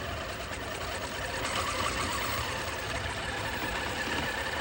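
Continuous electric motor whine of a GMade MT-1904 RC crawler under throttle, a steady buzzing drone held at even level, fairly quiet and close.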